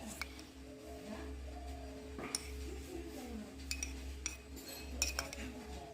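A spoon clinks against a bowl while Oreo cake batter is stirred with milk, giving light, irregular taps and scrapes over a low steady hum, with no talking.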